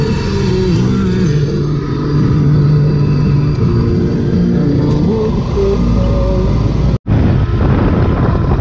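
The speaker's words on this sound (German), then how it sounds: "Dafür fahren wir jetzt hier mit so einem Taxi zum Hafen." A taxi in the Philippines driving toward a harbour, its engine droning loudly from inside with shifting pitch as it accelerates and slows, steady road rumble throughout and a brief cut near the end.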